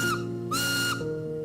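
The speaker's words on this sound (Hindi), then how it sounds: "तकनीकी तौर पर भाप की सीटी एक ऐसा उपकरण होता है जो दबाव वाली भाप का उपयोग करके आवाज पैदा करता है" A steam locomotive whistle sounds two sharp, fairly loud blasts, each a bright tone with a short pitch glide at its start and end.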